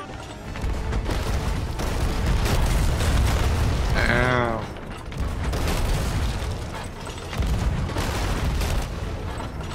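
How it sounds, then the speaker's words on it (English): Ship cannons fire in Sea of Thieves near Davy Jones's huge ship, a run of loud deep booms and rumbling blasts with brief talk and a short voiced cry in the middle. "We're gonna use the cannon."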